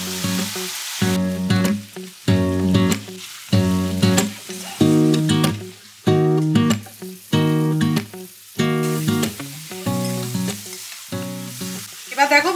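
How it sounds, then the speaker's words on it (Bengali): Biryani masala with ginger garlic paste and yogurt frying and being stirred in a pan, loud rhythmic bursts of sizzling that swell and drop roughly every second, close up with no talking. "এবার দেখো মশলা টশলা দিয়ে ভালো করে কষিয়ে নিয়েছি, অয়েলটা রিলিজ করে গেছে।"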